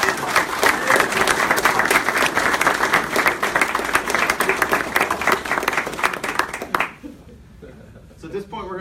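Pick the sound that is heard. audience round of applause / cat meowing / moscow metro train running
audience round of applause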